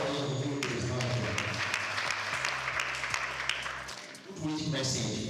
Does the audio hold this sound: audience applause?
yes